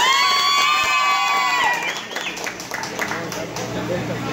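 A crowd cheers and whoops on a Halloween night at a nightclub, with loud shouting and some clapping. A sustained wavering tone is heard at first and cuts off partway through.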